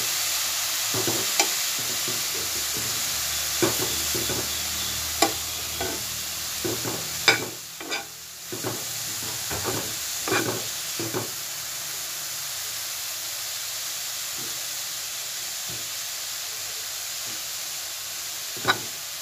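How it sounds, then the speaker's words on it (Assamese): Grated carrots sizzle steadily in ghee for a carrot barfi, with a constant frying hiss broken by irregular scraping clicks of a spoon stirring the pan at close range, and no voices. "এতিয়া গাজৰখিনি বহাই দিম মই"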